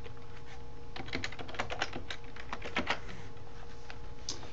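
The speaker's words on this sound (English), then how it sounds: "I can type in my password" A password typed on a computer keyboard: a quick, uneven run of light clicking keystrokes over faint steady hum, close and quiet, with no talking.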